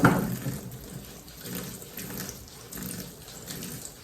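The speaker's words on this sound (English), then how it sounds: "I have all my carrots here in the sink, and I'm just gonna wash them off real good" Carrots are washed under a running tap in a kitchen sink, a steady close splash and rush of water that rises and falls as the carrots are moved through the stream.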